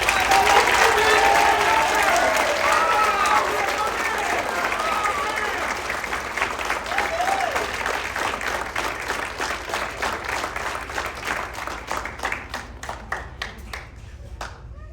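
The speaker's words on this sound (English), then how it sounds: "can you please give a loud round of applause for this year's winner of the John Philip Sousa Award" A school band concert audience gives a loud, dense round of applause for a John Philip Sousa Award winner, full clapping from many hands that slowly thins into scattered individual claps by the end.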